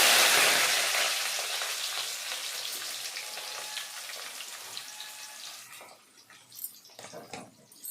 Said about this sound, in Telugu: తర్వాత వచ్చి స్టవ్ మీద బాండీలు పెట్టుకొని ఎర్రగడ్డ పచ్చిమిర్చి వేస్తున్నానండి